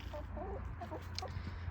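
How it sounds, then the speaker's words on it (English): Chickens cluck softly in a coop where they are shut in, a few short murmured calls close by over a steady low rumble. "There's the chickies."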